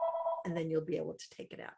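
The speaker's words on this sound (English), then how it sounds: "I'm sorry for that phone" A telephone rings with a steady electronic tone at the start, then someone talks over the remainder.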